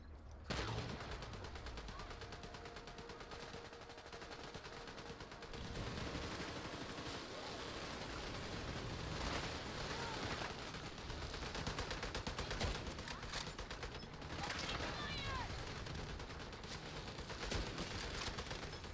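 A large artillery turret fires in a video game, with heavy booming blasts and crackling bursts of fire repeating irregularly across the stretch over dense background battle noise.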